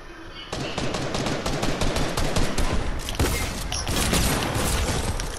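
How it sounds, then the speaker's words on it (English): Enemy gunfire in a shooter game: a sudden, dense burst of rapid automatic shots that cracks loudly and keeps rattling for several seconds with only brief breaks, the shots running close together in a steady stream. "They're shooting at us."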